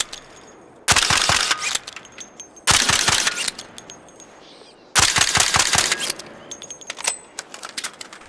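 Three separate bursts of rapid gunfire from a weapon with a level-3 silencer in the shooter game, each a sharp, dry rattle of several quick shots with almost no reverberation, separated by short pauses.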